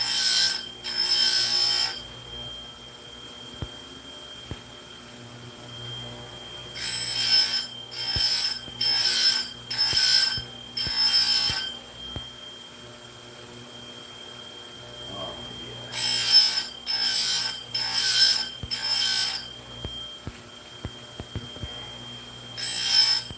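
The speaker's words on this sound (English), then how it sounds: "So I'm using a diamond cutting wheel. It actually reduces a lot of the heat transfer into the cutting heads." A diamond cutting wheel cuts in short, harsh, high-pitched bursts, grouped in clusters with quiet gaps between them over a steady low hum.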